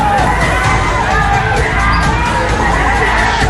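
A dense, unruly crowd shouts and yells in a tense confrontation with police, a loud, continuous roar of overlapping voices with whoops rising above the din.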